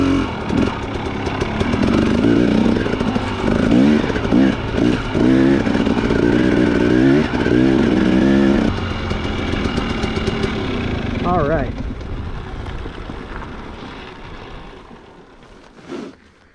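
A 2017 Husqvarna TX300 two-stroke dirt bike engine on its first ride after a rebuild, loud and close, revving and bouncing through the gears before fading off into the distance.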